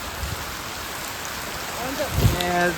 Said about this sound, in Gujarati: જો ફૂલે ફૂલ ધોધમાર વરસાદ આવે છે.